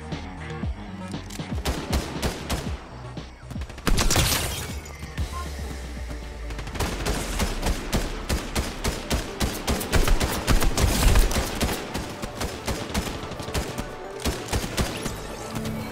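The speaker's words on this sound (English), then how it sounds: "Is that you shooting, Nico?" Dense, rapid bursts of gunfire in Fortnite crackle almost nonstop, with heavier volleys and impacts layered over a busy, loud game soundscape; no talking.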